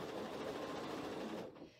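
Sewing machine stitching strips for a star quilt, a fast, steady mechanical whirr running close by for a short burst before stopping abruptly.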